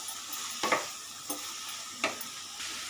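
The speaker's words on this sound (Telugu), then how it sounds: "మూత తీసాక ఒకసారి కలుపుదాం." Bottle gourd frying in a pan gets stirred a few times, with distinct scraping strokes at spaced intervals over a low, steady sizzle close by.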